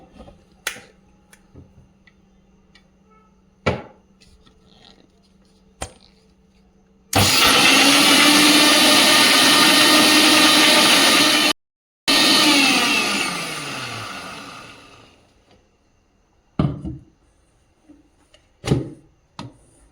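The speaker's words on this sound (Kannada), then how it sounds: "ಇದನ್ನೆಲ್ಲ ಒಂದು ಸ್ವಲ್ಪ ನೀರನ್ನು ಹಾಕಿ ರುಬ್ಕೊಳ್ಬೇಕಾಗುತ್ತೆ" A mixer grinder whirring through cashews and masala with a little water, running loud and steady in two spells with a brief pause, then winding down, with scattered taps and knocks before and after.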